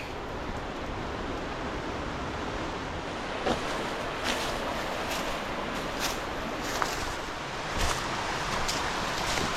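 Otter Creek in the Monongahela National Forest wilderness of West Virginia rushes in a steady, even wash of flowing water, with a few faint knocks and rustles over the constant noise.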